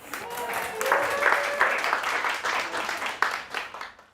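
An audience at a Watershed talk applauds to welcome a speaker; a short burst of fairly dense clapping with a voice briefly heard over it.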